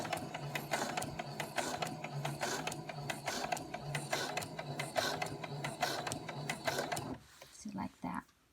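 A sewing machine stitches quilt pieces in a fast, steady mechanical chatter of needle strokes, close and continuous, then stops abruptly near the end, leaving a few quieter clicks.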